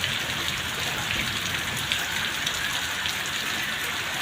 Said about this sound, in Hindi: बहुत तेज़ बारिश हुई है।